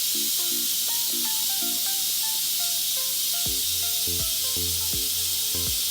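Steam vents in a loud, continuous hiss from an Instant Pot on quick release while cooking chili, with soft music tones and thumps playing underneath.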